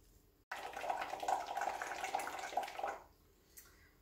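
Someone blows through a straw into water in a plastic-wrapped paper cup, making a steady bubbling gurgle for about two and a half seconds before it stops, then a faint splash follows.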